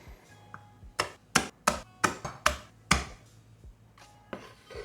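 A knife bruising about half a dozen garlic cloves for a fermented Sichuan hot sauce: a quick run of sharp, close thwacks on a cutting board, about eight in a few seconds, with quieter taps before and after.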